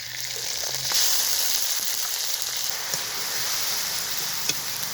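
Ground spice paste added to fried onions in a pan for a young jackfruit kofta dish, a steady dense sizzle and crackle with an occasional faint tap of a utensil, close and without talk.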